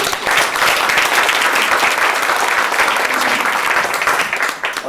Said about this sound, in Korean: 이수정 목사님 박수